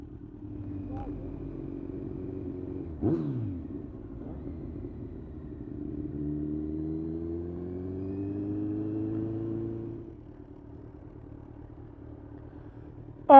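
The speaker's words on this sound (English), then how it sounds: "I heard you give him a rev bomb" A Kawasaki Z1 motorcycle engine idles in a low rumble, briefly blips, then rises and falls in a sustained rev before settling back to idle.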